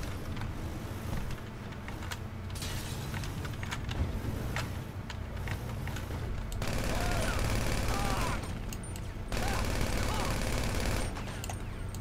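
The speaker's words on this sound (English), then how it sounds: "You have to shoot the other thief." Rapid bursts of automatic gunfire from a shootout in a video game, fairly steady and close, with engine noise and faint game effects running underneath.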